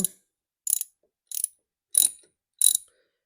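A ratchet loosening a bolt on a Kia Rio during a transmission fluid change, five short, crisp clicking bursts spaced about two-thirds of a second apart, close and isolated.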